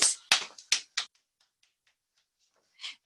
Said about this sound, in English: Clap your hands and tap your knees.